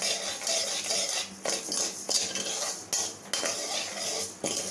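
Rice and lentils are dry-roasted in a heavy pan, with a spoon scraping and clinking against the metal in an uneven rhythm and a faint sizzle underneath, with no talking.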